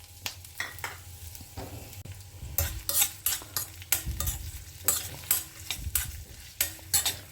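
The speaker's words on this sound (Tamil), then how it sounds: "கொஞ்சம் நன்னாவே இஞ்சி கருவேப்பிலையெல்லாம் வதங்கட்டும்." Ginger, curry leaves and green chili sauté in hot coconut oil in a pan, with a steady sizzle broken by repeated sharp spatula scrapes and stirring strokes that quicken toward the end; close and fairly loud, no voices.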